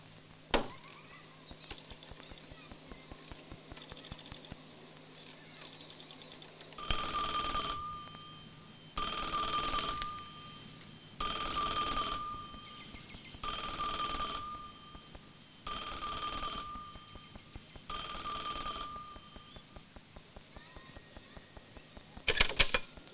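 A telephone rings out during a call in an Italian thriller film, six evenly spaced trilling bursts, fairly close and steady, after a quiet stretch of faint handling noise.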